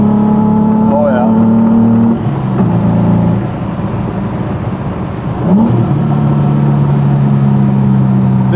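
A Datsun 240Z engine, happiest above 3,000 RPM, revs up close by with a strong, steady drone that holds and then climbs in pitch near the end.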